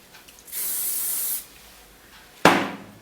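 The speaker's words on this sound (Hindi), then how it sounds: "स्प्रे कर लीजिए" Hairspray hisses onto hair in two bursts, a sustained spray of about a second followed after a pause by a sharper, shorter blast, close and clear with no talking.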